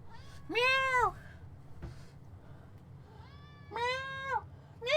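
A cat meows loudly twice, each call long and rising then falling, with quiet room hum between the two cries.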